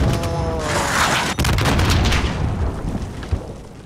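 Gunfire in a video game pounds out heavy booming shots and explosive bursts, loud and close, with a thick rumbling wash that gradually fades with one more thump near the end.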